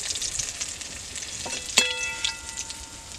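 Pabda fish frying in hot oil in a wok, a soft, steady sizzle and crackle with a few clinks of a utensil against the pan partway through, fairly quiet and with no talking.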